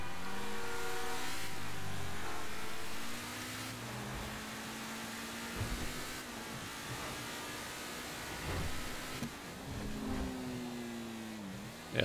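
A car engine in GTA V Online hums and revs through continuous driving, climbing in pitch and dropping back between gear changes, loud and close throughout with no talking.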